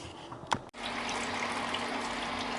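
Wort recirculating through the mash tun on an ESB brew day, a steady close watery trickle and rush that runs continuously after a brief knock near the start.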